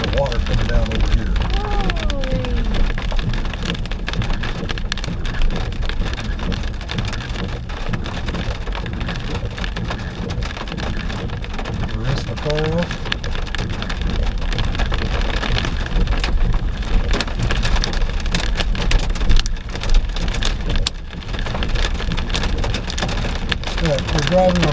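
Water pours down beside a one-lane mountain road near Ouray with hail, a loud, dense, unbroken roar and rattle heard from a car, with voices talking underneath.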